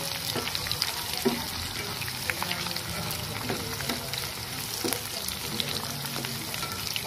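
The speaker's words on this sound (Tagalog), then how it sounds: "prituhin muna natin ang carrots" Carrots frying in a pan for Kapampangan pork caldereta, giving a steady bright sizzle with scattered stirring scrapes and pops, close and continuous with no talk.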